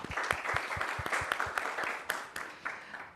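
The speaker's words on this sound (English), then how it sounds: "everyone here deserves a round of applause" Audience applause at a forum, a moderate round of scattered individual claps with distinct sharp hits standing out over a steady wash of clapping, sustained throughout.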